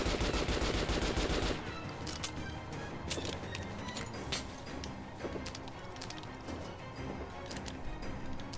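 Gunfire in the video game Metro Last Light, a dense rapid burst of automatic shots up front that gives way to scattered sharp single cracks and short volleys over a noisy background.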